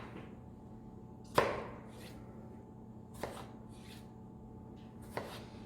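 A knife chops pizza toppings on a board in a kitchen. Three sharp, separate cuts come seconds apart, the first loudest, over a quiet background with no speech.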